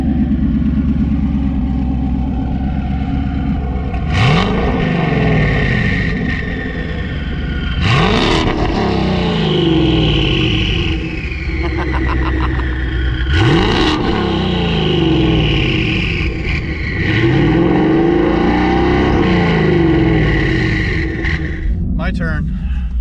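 A 2019 twin-turbo Coyote car with a 10R80 transmission and Circle D stall converter revs repeatedly, loud and close, each rise climbing and falling back to a rumbling idle, with voices talking over it.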